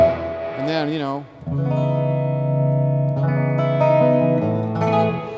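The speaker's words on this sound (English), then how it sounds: "the tube amp distortion is such a great sweet sound" An electric guitar plays through a tube amp on the distortion channel of a signature guitar amplifier, ringing out sustained, warm overdriven notes and chords with a bent note at the start, close and loud, with no talking.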